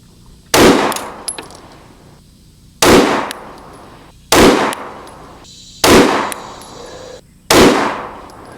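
Five loud, sharp handgun shots fired at an even pace about one and a half seconds apart during a Trijicon RMRcc red dot sight test, each with a brief ringing decay, close by with no talk.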